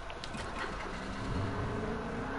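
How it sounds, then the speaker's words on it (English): A car engine in the Fortnite video game revs and accelerates, a steady mid-range motor drone that swells slightly as it climbs, heard close for a couple of seconds. "Oh, here's a car, guys!"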